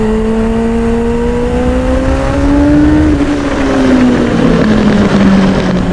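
Suzuki GSX-R 750 restomod motorcycle engine working through a curve: a loud, continuous close-up drone whose pitch climbs steadily, then eases and falls away, with heavy wind rush throughout.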